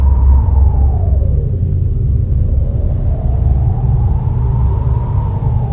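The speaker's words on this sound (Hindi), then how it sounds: "आकाश काले बादलों से घिर गया और बहुत तेज हवा चलने लगी।" Strong storm wind from a sound effect roars as a loud, steady low rumble, with a faint howl rising and falling above it, and no talking.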